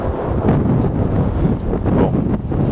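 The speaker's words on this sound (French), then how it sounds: "Putain, le vent, il est insupportable." Strong gusts batter the microphone at an abandoned rice mill, a loud, buffeting low rumble that surges and pulses in uneven bursts throughout.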